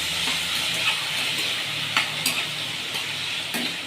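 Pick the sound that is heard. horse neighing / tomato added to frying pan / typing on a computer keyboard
tomato added to frying pan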